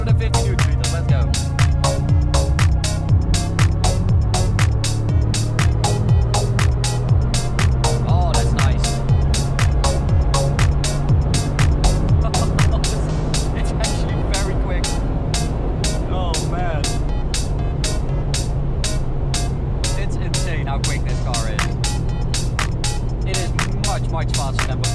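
Mercedes-AMG G63 with 850 Nm of torque accelerating hard in fifth gear from 80 km/h: a steady, loud engine drone with road and wind roar filling the cabin, rising slightly in pitch, with a voice talking over it.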